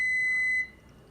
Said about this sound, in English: my oven just beeped, so it's ready